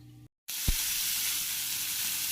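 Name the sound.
mowa fish frying in a pan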